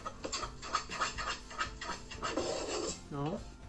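Flour stirred into melted butter in a pan makes rhythmic scraping and rubbing strokes, close up and steady, with a voice talking in between.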